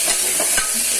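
Food for pulao is stirred in a hot pan, a brief scrape of the spoon over a steady sizzling fry, close and loud, with no one talking.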